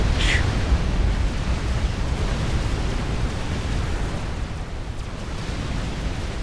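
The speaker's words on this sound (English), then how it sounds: "the artillery takes out Carlitos airbase" Artillery shells blast an airbase in a real-time strategy game: a dense, continuous roar of explosion rumble, loud and sustained, with a brief sharp burst right at the start.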